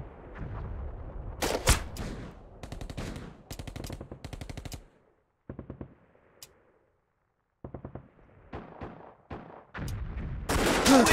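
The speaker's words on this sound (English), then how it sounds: "Where the fuck is he shooting from?" Bursts of gunfire from Mud and Blood Pacific, a WWII skirmish-line shooter: rapid machine-gun rattles and single shots in clusters, separated by a brief quiet stretch, with a loud burst closing the clip.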